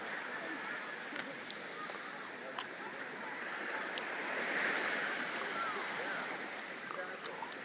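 Ocean surf rolls in steadily at Lanikai Beach, a soft continuous wash with a gentle swell in the middle, heard from a little distance under light wind noise, with a few faint clicks and no clear talk.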